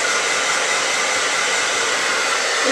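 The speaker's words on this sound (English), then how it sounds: "do a blow dryer on my lips" Hair dryer blowing steadily, a loud continuous broadband whoosh with an even motor roar that stays constant throughout, with no talking.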